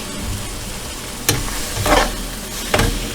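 Close, steady sizzle of a pound of ground beef frying in a pan, with a few sharp scraping stirs of a utensil.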